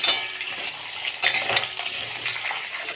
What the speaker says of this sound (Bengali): আলুটা একটু লাল করে ভেজে নিই।